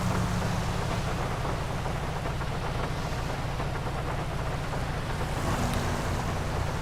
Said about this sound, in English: And as you can hear, it is most definitely raining.